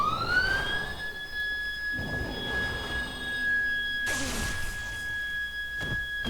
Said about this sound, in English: that was the stupidest sounding siren I've ever heard